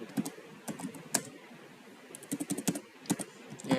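Fingers tap on a computer keyboard while code is entered, with irregular bursts of crisp key clicks, some quick clusters and brief pauses, close up and alone without talk.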